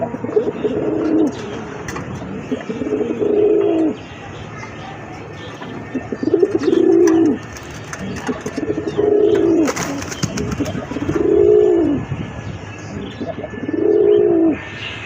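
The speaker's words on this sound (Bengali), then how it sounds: "আরেক জোড়া কবুতর গিরিবাজ কবুতর।" A pair of large Giribaz pigeons coos in a steady cycle of about six throaty, rolling bouts, each lasting roughly a second, separated by short pauses over faint background noise.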